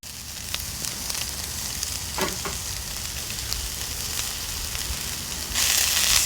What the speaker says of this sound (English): Man, I love the smell of sausage cooking.